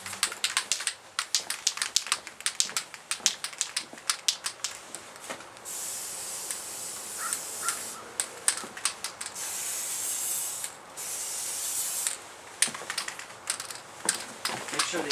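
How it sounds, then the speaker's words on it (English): Short hisses from an aerosol can spray paint a homemade survival stove. The bursts repeat in an uneven rhythm, some brief and some held for a couple of seconds, loud and close, with no talking. "Make sure the other side's sprayed."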